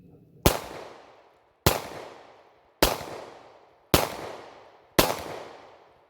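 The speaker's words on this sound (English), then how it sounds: "The gun seems to be shooting fine" Five loud, sharp gunshots from a Glock pistol that had been buried in a muddy yard for a month, fired at a steady pace about one second apart, each with a fast decaying echo and no talking.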